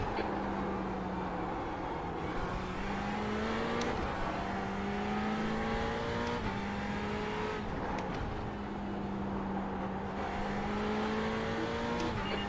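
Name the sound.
race car engine during a VLN endurance race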